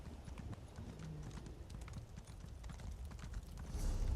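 Hooves of a horse ridden in the video game Elder Scrolls Online clip-clop in a steady rhythm over low ambient game sound, growing slightly louder toward the end.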